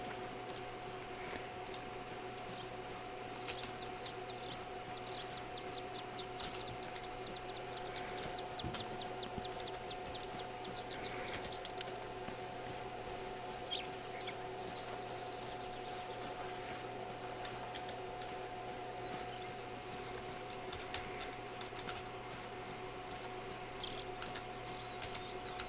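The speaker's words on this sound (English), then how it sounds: "I can hear some geese. Oh, black grouse." Black grouse calling faintly in the distance outdoors on a goose hunt: soft, repeated bubbling, chirring trills rising and fading over a steady low hum, with no talking.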